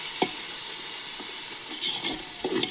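Ginger garlic paste stirred and sautéing in a hot pan, with a soft continuous sizzle punctuated by a few short scraping stir strokes, close and fairly quiet with no talking.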